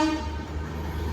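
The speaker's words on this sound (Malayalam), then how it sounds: "ഇത് പൂനെ കന്യാകുമാരി എക്സ്പ്രസ് ആണ്." The Pune–Kanyakumari Express, hauled by a Vijayawada-based WP7 locomotive, approaches slowly on the main line: a brief horn tail at the very start, then a steady low rumble.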